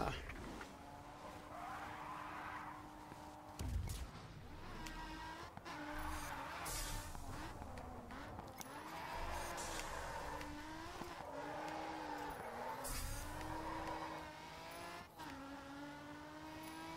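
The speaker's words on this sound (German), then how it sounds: "Und zieh sofort die Handbremse, um in den Drift zu kommen." Handbrake drift in the GRID 2 racing game on a mountain course, with a sustained engine drone and squealing tires under continuous commentary and music-like layers, engine pitch rising and falling throughout.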